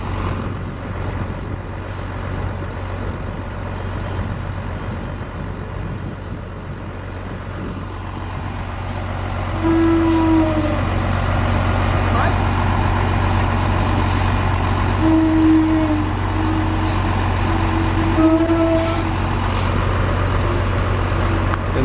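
Heavy diesel rumble from an oversize truck hauling an 18–20 metre load down a slope, a loud low drone with hissing air brakes and short squealing brake tones building in the second half.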